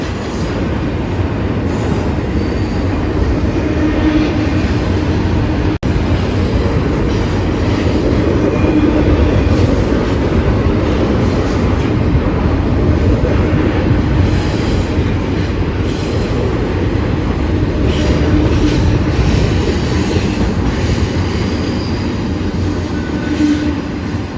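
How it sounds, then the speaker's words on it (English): A long freight train rumbles past close by in Kansas City, a loud, unbroken roar of wheels and cars with faint rhythmic clacking and occasional squeals that carry on for the whole stretch. "Man, I thought that train was gonna go on forever. That was a long train."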